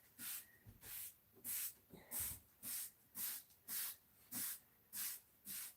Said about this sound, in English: I like this Resolve carpet cleaner.